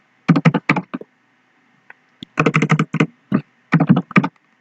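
Bursts of computer keyboard typing, quick clustered keystrokes in three runs with short pauses between, close and clear with no talking, while text is entered into a WordPress site menu.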